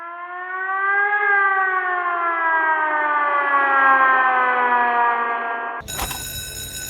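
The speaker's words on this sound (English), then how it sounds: "tornado siren?" A tornado siren wails loudly and steadily, its pitch slowly sliding downward for several seconds before cutting off abruptly into a different noise.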